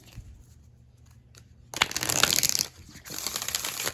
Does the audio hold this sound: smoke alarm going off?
no